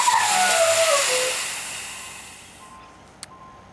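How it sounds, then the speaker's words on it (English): Air brakes on a truck trailer with a Knorr-Bremse braking system release, and a loud rushing hiss of exhausting air fades away over about two and a half seconds. A brief faint click follows in the near quiet. "They had to wait for all of the air in the system to exhaust out the front"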